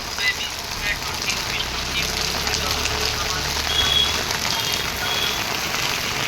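Rain falling on a street in Sakinaka, Mumbai, a steady broadband hiss of drops with faint traffic rumble and a brief high beep in the background.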